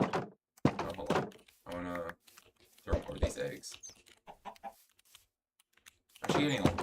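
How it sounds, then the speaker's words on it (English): Minecraft chickens cluck in short bursts among the game's thunks and clicks, while a person talks loudly over them through most of the stretch. "Oh, those chickens are here."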